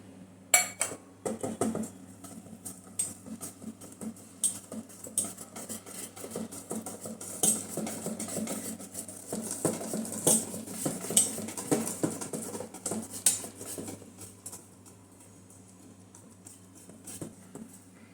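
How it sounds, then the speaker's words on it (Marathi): A whisk rattles and scrapes against a bowl as besan batter for dhokla is beaten with green chilli, grated ginger and crushed coriander, making quick, irregular clinks and taps that run steadily for a sustained stretch. "क्रश केलेले धणे घालून परत एक ते दोन मिनटं फेटून घेणार"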